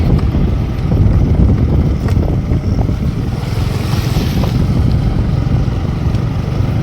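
Swollen river in Talcher, Odisha, rushing along during heavy rain: a loud, steady broadband roar of flowing water with no clear breaks, close to the microphone and unaccompanied by speech.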